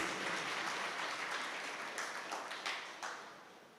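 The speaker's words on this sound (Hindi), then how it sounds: "तो तालियां जोरदार बजाओ, इतनी सी क्यों?" An audience at a Jain monk's sermon claps steadily, a soft diffuse applause with a few distinct claps near the end before it fades away.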